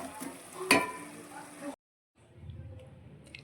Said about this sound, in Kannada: ಫ್ರೈ ಮಾಡ್ಕೊಂಡಿರೋಣ ಪನ್ನೀರನ್ನು ಸೇರಿಸ್ಕೊಳ್ತಿದ್ದೇನೆ.